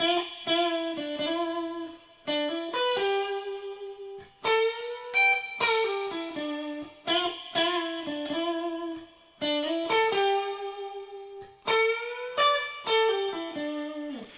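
Electric guitar with reverb playing an intro riff: clean, ringing melodic phrases of sustained notes and quick changes, repeated in even cycles, played alone and close.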